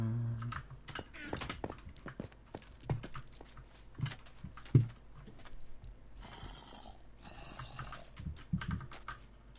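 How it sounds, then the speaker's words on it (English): Typing on a computer keyboard, soft irregular key clicks and taps at low level, mixed with faint breathing and background game sounds. "You guys are wondering what I'm doing when I'm looking down, I'm typing."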